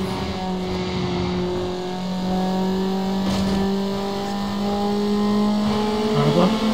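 Race-car engines in the Need for Speed Underground video game idle and rev at the start line, a steady droning tone that climbs in pitch near the end, with faint speech.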